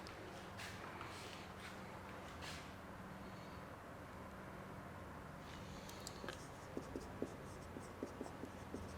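A pen scratches out a question during a probability lesson, faint and intermittent against a low hum, with a few sharp taps near the end and no talking.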